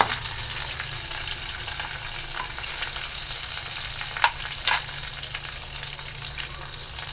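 Crushed garlic and green chili sizzle in hot oil for a Maharashtrian dahi kadhi, a steady bright frying hiss with a brief louder crackle and stir partway through.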